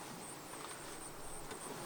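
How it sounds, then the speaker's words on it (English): Honey bees in an opened Langstroth hive on a semi-overcast day, a soft, steady, even hum of many bees close by with no voices. "And the bees are nice and quiet. Listen to them."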